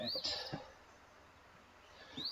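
Recorded birdsong playing as a background music track: a few short, bright chirps near the start and again at the end, fairly quiet, with soft voices and room noise between them.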